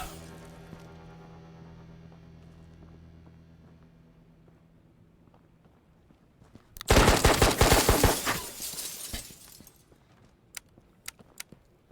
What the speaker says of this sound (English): grab the MP5 off my chest, take a second to confirm that it's on full auto